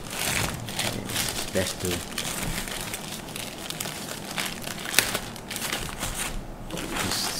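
Plastic packaging of a small 5A solar charge controller being unwrapped, steady close crinkling and crackling throughout, with a voice speaking briefly.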